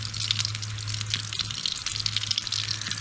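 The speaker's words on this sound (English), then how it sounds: "Give that a little sizzle. It's soaking up some grease" Tortillas sizzling in grease in a pan at a snowy campsite, a steady close crackling fry with a low hum beneath it, continuous and fairly loud.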